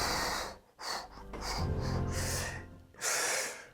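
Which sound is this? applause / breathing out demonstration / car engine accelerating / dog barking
breathing out demonstration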